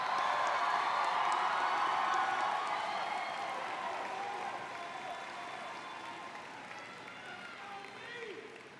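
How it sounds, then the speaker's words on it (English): Graduates at a high school graduation ceremony receive a long burst of applause from the crowd: dense, steady clapping that starts full and slowly thins out over several seconds. "Please give a round of applause for these graduates."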